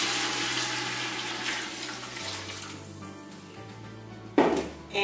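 Homemade vegetable stock pours from a blender jug into a soup pot for leek and potato soup, a steady liquid rush that shifts pitch as the pot fills, ending with a brief clatter.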